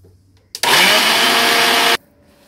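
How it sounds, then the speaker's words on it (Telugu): A kitchen mixer grinder whirs loudly for just over a second while grinding mustard and fenugreek seeds for grated mango pickle, starting and stopping abruptly with no talking. "ఇది చల్లారనియండి, మిక్సీ పట్టుకుందాము"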